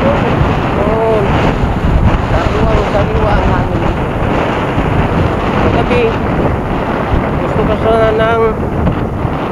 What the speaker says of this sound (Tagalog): makita nyo, malakas ang hangin